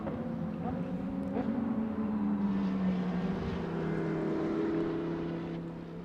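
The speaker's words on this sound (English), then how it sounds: "He's going on and off on the throttle there." A GT race car engine during GT Asia qualifying, heard as a steady, loud drone whose pitch swells and dips as the driver goes on and off the throttle, with no talking.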